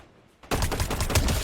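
Burst of rapid gunfire in a battle royale video game, loud and close, breaking in abruptly after a near-silent moment and continuing as dense repeated shots.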